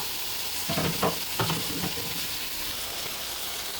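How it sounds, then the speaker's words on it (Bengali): Eggplant frying in a pan is stirred with a few brief scraping strokes over a steady, soft sizzle that continues alone after the stirring stops. "বেগুনটাকে এখন নেড়ে চেড়ে হালকা একটু পানি দিয়ে দেব"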